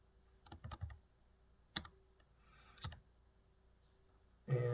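Code is typed on a computer keyboard in a few short clusters of crisp, close key clicks separated by quiet pauses, with a louder clack at the end.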